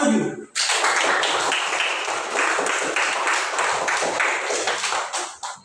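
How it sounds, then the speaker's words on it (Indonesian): A seventh-grade class bursts into applause in a classroom after a brief quiet moment, a dense, sustained clatter of many hands clapping together at close range for several seconds before tapering off. "tepuk tangan untuk kelas 7"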